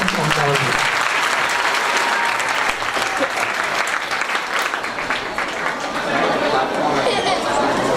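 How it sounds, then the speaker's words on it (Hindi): Loud, sustained applause from a seminar audience filling the hall, dense clapping with murmured crowd chatter mixed in throughout. "मुक़द्दस के लिए आपकी जोरदार तालियों के साथ"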